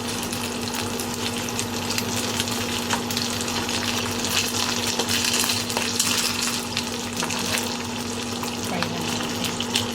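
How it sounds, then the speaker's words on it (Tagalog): Skinless garlic longanisa sausage frying in a pan over low heat, giving a steady, even sizzle throughout with a faint constant hum behind it and no talking. "Fry lang natin. Kailangan na low fire lang."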